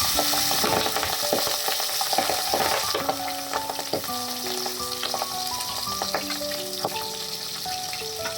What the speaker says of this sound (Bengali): মাছটা দিতেই তেলে কীরকম ফাটছে দেখেছো তো?